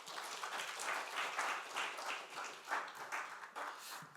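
A church congregation at a Friday prayer meeting applauds, steady clapping swelling and ebbing in waves for several seconds.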